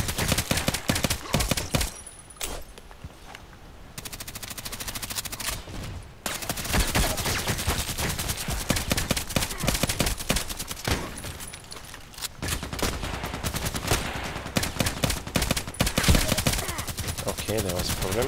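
Rapid automatic Glock 18 pistol fire in a first-person shooter game, loud bursts and near-continuous volleys with brief pauses, a voice talking intermittently beneath the shots.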